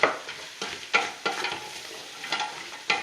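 Vegetables for celery soup stirred in a pot, rhythmic scraping strokes about every half second over a soft sizzle, close and fairly quiet, with no talking.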